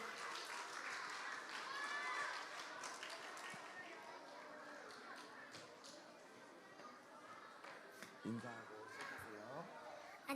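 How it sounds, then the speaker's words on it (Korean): An audience at a children's prayer meeting applauds a young girl as she comes forward, a steady wash of hand clapping that runs for several seconds and stays fairly faint and distant. "박수 주세요"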